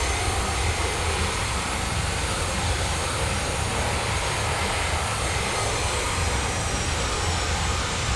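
Twin-jet roar of the Virtavia C-17 in Flight Simulator X, a loud, steady broadband jet engine rush holding constant throughout with no voices.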